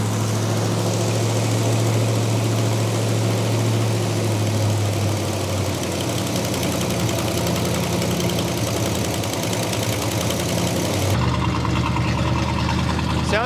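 A 1960s Buick Wildcat V8 runs for the first time in 21 years, with a steady loud idle and a low rumble throughout, a drop in pitch partway through, then settling into a slightly lazy, rough idle.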